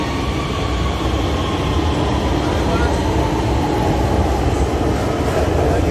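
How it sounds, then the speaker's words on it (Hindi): Orange Line metro train pulling out of an elevated station toward Dera Gujran, a steady loud broadband rumble and rolling hum that holds throughout, with a voice talking faintly over it. "ये ट्रेन अब रवाना हो रही है यहाँ से डेरा गुजरा के लिए"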